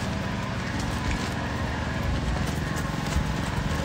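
Horses' hooves clop at a walking pace outdoors, a continuous run of steps under a broad noisy background, with no voices heard.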